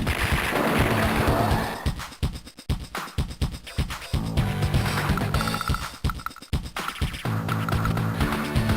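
Units open fire in the Advance Wars strategy game, a burst of rapid cracking gunfire and thuds that comes in choppy, repeated volleys over looping game music, loud and up close.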